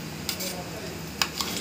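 A tempering sizzles steadily in a pan while being stirred for a peanut chutney, a continuous frying hiss with a few sharp metallic scrapes of the spoon against the pan.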